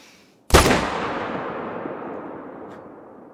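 One loud, close gunshot from a Yukon wolf-hunting video game, a sudden sharp crack followed by a long, rolling echo that slowly fades over several seconds.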